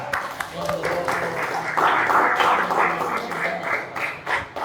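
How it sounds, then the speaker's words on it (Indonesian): Scattered classroom clapping runs under a teacher's ongoing voice, swelling briefly in the middle before tapering off as the talking carries on. "Tepuk tangan untuk kita."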